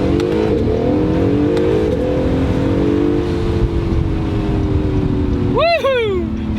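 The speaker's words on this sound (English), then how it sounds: "When you downshift though, it's a really odd sound too." A 2018 Acura NSX under hard acceleration, its engine droning loudly and steadily near the microphone, then a quick downshift near the end with a brief rising-and-falling whine and blip.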